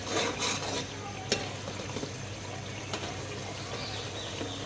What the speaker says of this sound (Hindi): चूल्हा चलाते रहना है ताकि आपका मसाला जो है वो नीचे लगे नहीं। चम्मच इसके अंदर चलाते रहें।